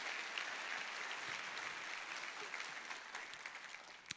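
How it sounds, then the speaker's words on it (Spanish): A congregation at a Spanish-language church service claps steadily and loudly, a continuous dense wash of applause that holds for about four seconds before tapering slightly with a few sharper claps at the end. "Le das un aplauso bien fuerte al Rey, por favor."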